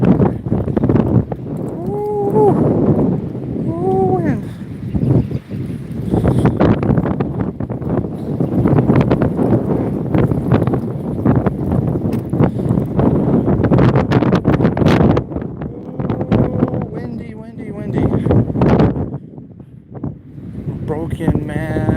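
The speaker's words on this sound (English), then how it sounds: "That's why the wind is blowing so hard." Strong gusty wind roars and buffets the microphone throughout on an outdoor walk, while someone talks over it.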